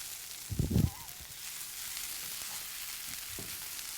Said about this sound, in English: We're going to give it one last stir, and we're going to let it burn up a little on the other side